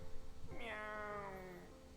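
A cat meows in the video game WILL: A Wonderful World, one long drawn-out rising then falling meow of about a second, clear and close over low background sound.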